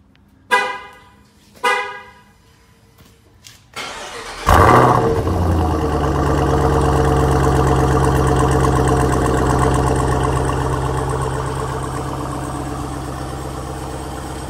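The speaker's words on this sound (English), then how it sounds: "I thought I'd see if we could get a cold start going for you." Two short horn-like chirps, then a Jeep Trackhawk engine cold starts, cranking and firing with a loud bark before dropping into a deep, steady idle that slowly quiets.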